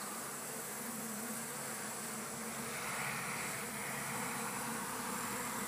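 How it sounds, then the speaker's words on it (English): Japanese honey bees, Apis cerana japonica, buzz on a hive frame in a steady close hum, a continuous swarm drone that holds evenly throughout with no talking. "This is Varroa mite-free bees."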